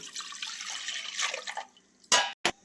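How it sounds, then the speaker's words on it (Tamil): Tamarind water poured into a pan of homemade garlic kurma, a soft continuous liquid pour followed by a couple of sharp splashy drips near the end. "இந்த புளி தண்ணியை இதில் ஆட் பண்ணிக்கலாங்க."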